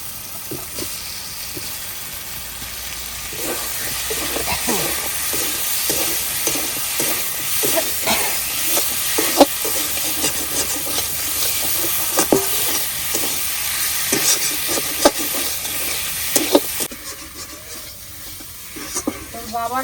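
Fried potatoes cooking in a sautéed spice masala, a close, steady sizzle with frequent spatula scrapes and stirring clatter, easing off near the end, no voices.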